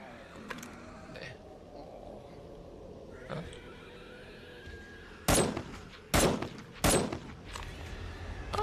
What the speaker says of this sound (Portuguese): deu uns tiros